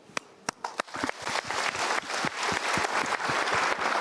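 An audience applauds after people share on stage: a few sharp, separate claps swell within a second into dense, sustained applause, moderately close.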